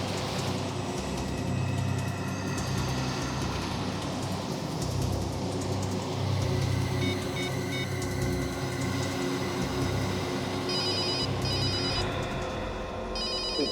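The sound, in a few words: telephone ringing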